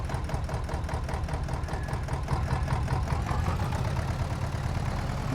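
A farm tractor engine idles in Farming Simulator 22, a steady low, throbbing mechanical drone with a regular chug that stays constant and close throughout, with no talking.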